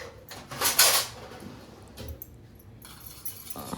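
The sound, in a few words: mixing spiced mixture in a plate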